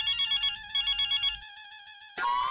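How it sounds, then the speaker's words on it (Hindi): An office phone ringing in a sitcom household, a loud repeating electronic ringtone with stacked warbling tones that cuts off abruptly near the end, followed by a brief different tone. "मेरे ऑफिस से फोन है, पता नहीं क्या जवाब दूं।"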